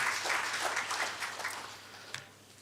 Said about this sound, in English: So let us give a big round of applause to all of them.